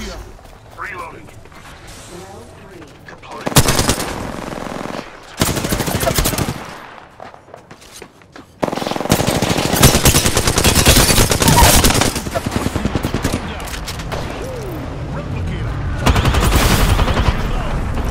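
Automatic weapon fire from the game Apex Legends comes in several loud, rapid bursts separated by short pauses, with a long sustained burst in the second half. A voice speaks during quieter moments.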